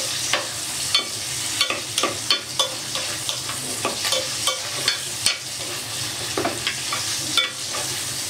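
Bacon pieces frying in oil in a pan for a quiche Lorraine, stirred with a utensil: a constant close sizzle with a steady run of light scraping knocks on top, no talking.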